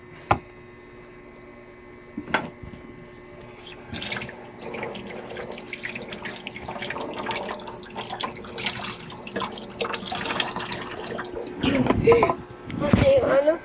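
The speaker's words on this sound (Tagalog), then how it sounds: "Okay, hugasan muna natin" Tap water runs into a sink as a large kitchen knife is rinsed under it. After a few quiet seconds, a steady splashing rush builds with clinks and drips, and a voice talks at times.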